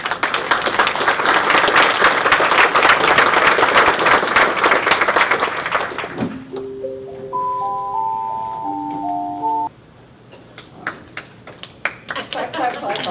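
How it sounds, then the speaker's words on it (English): Audience applause breaks out at the close of a speech, a dense wash of clapping for about six seconds before it fades, followed by a rising sequence of sustained electronic tones and a few scattered taps. "Clap, clap, clap, clap"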